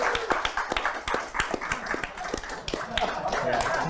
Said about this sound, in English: he's so excited to clap for Ninja.